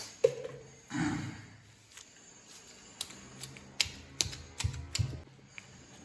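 Green chillies and cumin are pounded into chutney in a mortar, with irregular sharp knocks and clatters, some close together and some spaced apart, amid quiet pauses.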